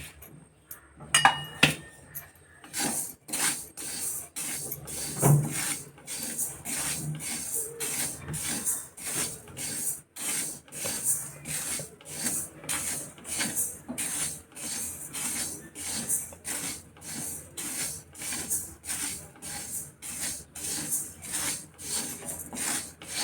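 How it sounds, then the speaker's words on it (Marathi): Fenugreek seeds dry roasting in a pan for a Maharashtrian winter energy recipe, heard as a steady, close run of rhythmic raspy scrapes from stirring against the pan, repeating about every half second. "हे आता मेथी घेऊया त्यातच भाजून."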